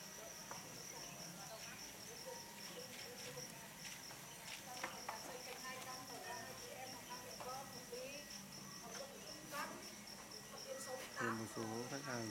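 Crickets chirp densely and continuously at a cricket farm in Thai Nguyen, a loud shrill chorus with scattered clicks and rustles nearby.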